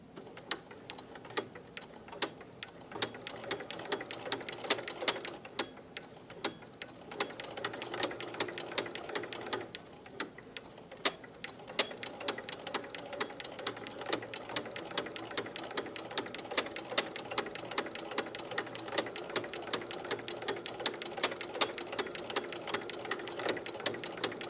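Sewing machine fitted with a ruffler foot running at slow to medium speed, a steady rapid mechanical ticking that pauses briefly and resumes, close and alone.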